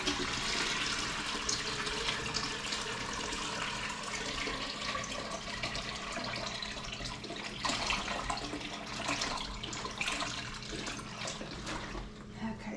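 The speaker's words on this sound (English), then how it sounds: "I need to refill the Berkey." Water pours steadily into a Berkey gravity water filter being refilled at home, a continuous close splashing and trickling stream that runs unbroken for about thirteen seconds with no talking.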